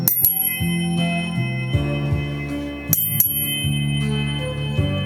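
Tuning forks sounding harmonic intervals, C with E as a third and C with G as a fifth, pure sustained tones struck several times in sequence, ringing clearly with no talk.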